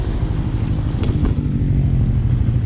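A Benelli Imperiale 400 motorcycle engine runs steadily during a test ride, producing a continuous low, throbbing rumble that stays loud and close, with a faint wind noise above it and no talking.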